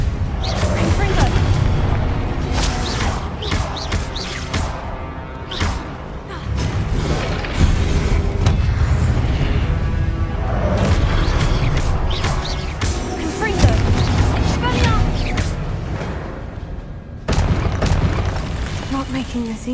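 Confringo blasting spells from Hogwarts Legacy explode in a dense, loud stream of booming blasts and bursts amid constant combat noise, with a voice calling out spell names over the din.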